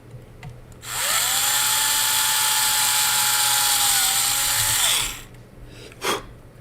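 A small high-pitched drill whines steadily for about four seconds while drilling a hole in a scale-model Titanic part, starting and stopping abruptly, with a brief clunk afterward.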